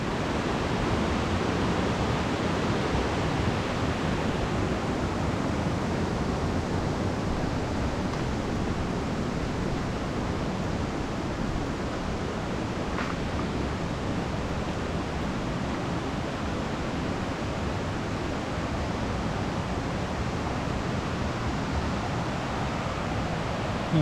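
Jed Khot waterfall in Saraburi, Thailand, running high with plenty of water, gives a steady, dense rushing roar that holds even and unbroken throughout, with no voices.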